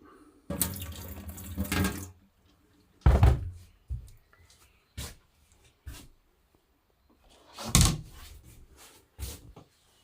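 Water from a tap splashes into a small sink inside a greenhouse, in several separate bursts of running water between quiet gaps, close and clear, with a cupboard or door knock among them.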